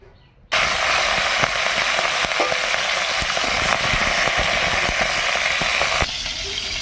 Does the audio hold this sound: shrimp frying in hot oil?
yes